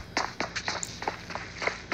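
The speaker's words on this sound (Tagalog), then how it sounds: "Narinig ko yung yabag niya." Footsteps of an enemy player in PUBG Mobile, a quick run of soft, evenly spaced steps patters along, faint and alone.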